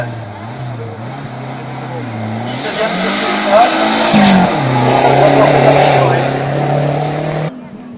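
A BMW race car climbs the Calmont hill climb course, its engine note rising and shifting through gears as it approaches and passes loudly, then cuts off abruptly; an announcer talks over the first part.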